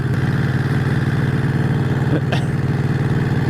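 A 1951 Harley-Davidson EL Panhead idles nearby with a loud, steady, evenly pulsing exhaust beat. A brief sharp rising sound cuts in once partway through.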